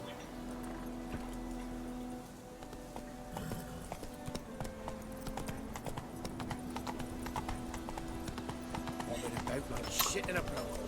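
Roach, the horse in The Witcher video game, trots with a steady, crisp clip-clop of hooves throughout, over constant game ambience and faint background voices.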